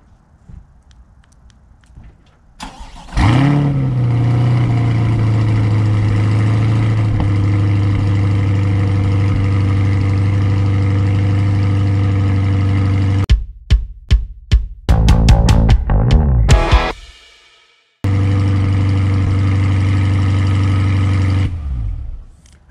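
2023 Chevrolet Corvette C8 Z51 2LT fires up with a loud rev flare, then settles into a steady deep idle; it shuts off, restarts with a series of blips, and drops back to a smooth rumble, heard close.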